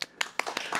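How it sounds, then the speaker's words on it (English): A few people give a light, sparse golf clap: about five soft, separate hand claps in under a second, close and quiet. "Let's give him a golf clap."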